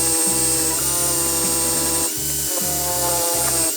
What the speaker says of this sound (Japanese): インパクトドライバーの方が、グラインダーよりも回転が低いんで、インパクトドライバーの方が磨きやすいところあるかもしれないですね